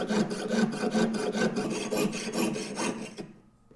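A jeweler's saw cutting metal, moved up and down in long strokes, gives a steady rhythmic rasping, about three strokes a second, close and fairly quiet, then stops.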